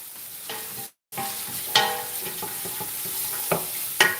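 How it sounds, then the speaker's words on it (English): Onions sautéing in a pan for a creamy chicken tortilla soup, a steady sizzle with repeated scrapes and clinks of stirring, broken by a brief silent gap near the start. "I'm just going to saute this until the onions are translucent"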